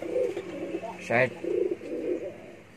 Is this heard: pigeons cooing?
yes